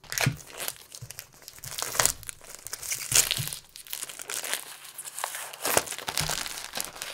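Plastic packaging around a black and brown double dice cup set is cut open, giving steady close crinkling, crackling and tearing with small sharp crunches throughout.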